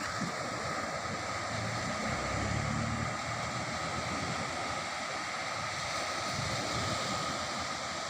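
Sea waves roll onto a rough shore, heard from some distance as a continuous broad roar with gentle swells, fairly loud and unbroken, with some wind noise and no voices.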